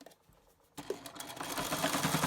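A sewing machine backstitches across a cloth face mask, starting abruptly after a brief quiet moment and then running as a steady, close, rapid mechanical whir that grows slightly louder.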